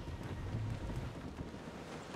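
A storm at sea in Assassin's Creed Rogue: a steady wash of rain and wind, with low rumbling thunder throughout, loud and constant.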